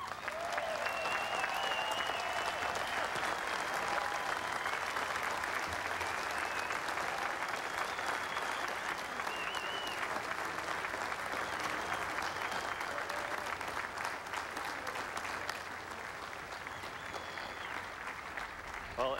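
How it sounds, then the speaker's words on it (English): A large crowd applauds at the 2005 Baseball Hall of Fame induction ceremony, with a long, steady roar of clapping and a few distant whistles and cheers, sustained for the whole stretch and dropping slightly toward the end. "excuse us while we applaud as well"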